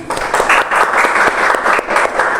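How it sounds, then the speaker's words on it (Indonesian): Classroom applause during a microteaching practice lesson, a brief burst of many hands clapping in quick uneven rhythm, fairly close and loud, with no talking over it. "Berikan tepuk tangan untuk Diani."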